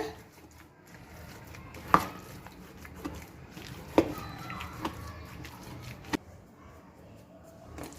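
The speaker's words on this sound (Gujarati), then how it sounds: "હવે આને આપણે સરસ આ રીતના મિક્સ કરી દેવાનું છે" Vegetable batter with spices and lemon stirred in a bowl, a steady soft scraping and squelching with a few sharp clinks of a spoon against the bowl rim, close and fairly quiet.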